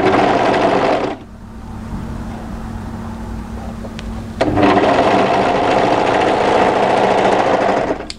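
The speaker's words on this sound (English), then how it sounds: "and overlock that seam." Overlock machine stitching a seam on a crossover funnel-neck sweater: a loud, steady mechanical whir that drops to a quieter hum for about three seconds, then surges back to full speed.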